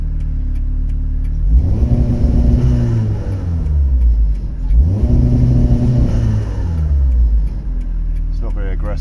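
Two vehicles, a van and a car, pass by on a road one after another, each swelling from a distant rumble to a loud close whoosh and fading, with a motor droning low throughout.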